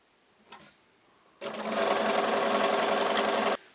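A sewing machine hums in one steady two-second run, close and loud, stitching fabric strips together in pairs for a ruffle and tag blanket, after a brief soft handling sound.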